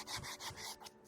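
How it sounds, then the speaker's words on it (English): Hand sanding the edge and nose of a wooden Shaker band top after bandsawing, a close, steady rasping rub in several back-and-forth strokes that fade toward the end. "I'm going to do a little bit of sanding on this by hand"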